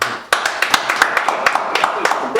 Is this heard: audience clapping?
yes